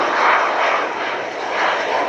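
A fixed-wing jet flying at a high angle of attack at the RIAT 2017 airshow at Fairford, a loud sustained engine roar that swells and eases slightly, with no voices.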